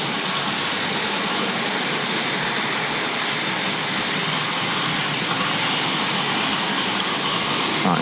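A Tri-ang Princess model train runs through a model railway station, giving a steady close whirring rumble with a hissy wash of noise that continues unbroken throughout.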